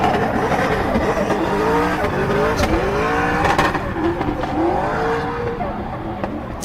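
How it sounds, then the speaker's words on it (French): A drift car, a GT86-type event run at a French drift championship, crosses the finish line with engine revs rising and falling and tyre squeal, heard at a distance over crowd noise. "Et la voiture d'Axel François qui va franchir la finish line."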